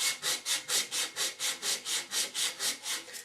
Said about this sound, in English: Now, to help you with the sanding process, to make sure you get all them marks and lumps out